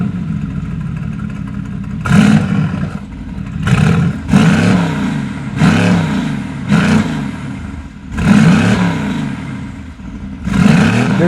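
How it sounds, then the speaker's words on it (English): A Mercedes-AMG GT R sports car's engine is revved repeatedly through its exhaust, loud and close, with sharp bursts rising and falling in a series of about seven blips separated by brief pauses. "why on earth would you want to listen to music when you could listen to this?"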